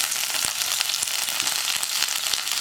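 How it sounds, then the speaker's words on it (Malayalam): Steady, loud sizzling of mustard seeds, dried red chilies and curry leaves frying in hot oil, with dense crackling and occasional sharper pops throughout. "കടുക് ഒന്ന് പൊട്ടിക്കഴിയുമ്പോൾ നമ്മൾ വറ്റൽമുളകും കറിവേപ്പിലയും ചേർക്കുക."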